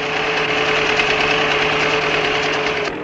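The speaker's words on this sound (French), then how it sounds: "Les pneus agricoles testés ici sont montés sur un tracteur qui tire un tracteur laboratoire, lui-même attelé à une charrue." A tractor fitted with test agricultural tyres pulls a laboratory tractor hitched to a plough, its engine droning loud and close with a steady knocking throb that holds unchanged throughout.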